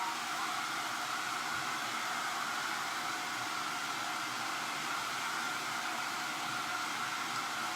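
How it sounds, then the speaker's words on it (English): A hair dryer blows steadily on a painting, a loud, continuous broadband whoosh with an even hiss that holds unchanged for the whole stretch, with no talk over it. "Why don't you start blow drying yours"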